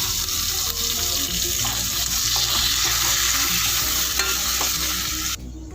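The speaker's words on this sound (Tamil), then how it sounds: "பச்சை வாசம் போகிற வரைக்கும் நல்லா வதக்கலாம்" Masala sizzles and fries steadily in a pan for mushroom gravy, with a continuous loud crackle and occasional scraping stirs, no voices, cutting off abruptly at the end.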